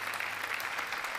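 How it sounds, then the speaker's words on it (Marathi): A studio audience at a Marathi comedy show gives loud, dense, continuous applause that stays steady from start to finish, with no voices over it. "जोरदार टाळ्या"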